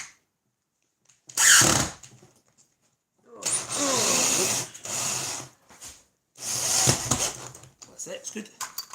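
A power drill drives screws into a small wooden barn door in a woodworking shop, with bursts of whirring motor at close range, a couple of seconds each, between short spoken remarks.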